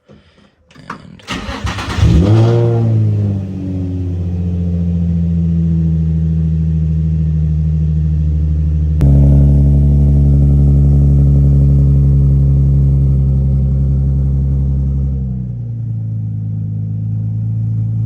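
A Nissan 350Z cranks and fires after six months of sitting, then settles into a loud, steady idle close by, with a brief rise in revs partway through before dropping back to idle.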